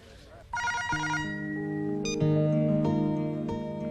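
A telephone rings with a bright electronic tone, followed by a sustained melodic ringtone that continues steadily, loud and close.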